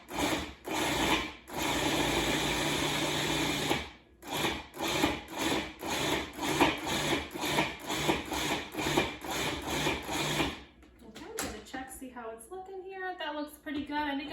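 Broccoli pulsed in a food processor with the lid secured, chopped down to a fine, sand-like grain: loud, close bursts of whirring blade noise in quick repeated pulses, stopping near the end as a voice starts talking.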